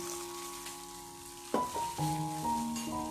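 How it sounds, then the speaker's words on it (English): Stirring a homemade rice body moisturizer mixture in a container, soft scraping and swishing with a sharper clink partway through, close and quiet with no speech. "Now I am giving it a good stir"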